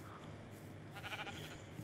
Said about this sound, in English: But I found sheep.